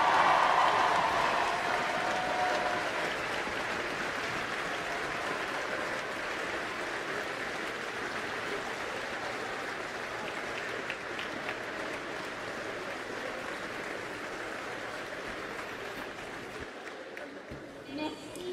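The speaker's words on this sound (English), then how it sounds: "give them the applause they deserve" A graduation celebration crowd stands and applauds the graduates' parents, a dense, sustained roar of clapping that fills the hall and fades near the end.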